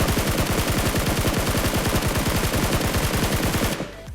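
Rapid automatic gunfire rattles in an online shooter video game, a dense, even burst of shots lasting nearly four seconds before cutting off.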